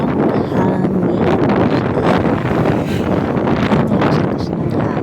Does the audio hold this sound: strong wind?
yes